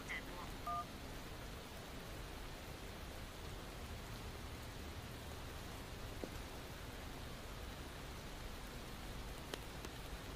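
A phone being dialed gives a single short keypad tone near the start, then only faint, steady hiss for the rest.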